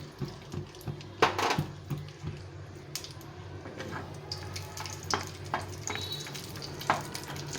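Cashew nuts roasting in a spoonful of ghee in a hot frying pan, a soft continuous sizzle with scattered scrapes and clinks of a spoon, close by and fairly quiet.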